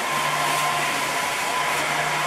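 A Softhood by Hair Flair hooded hair dryer runs with a steady, loud whooshing airflow and constant motor hum, heard close and uninterrupted.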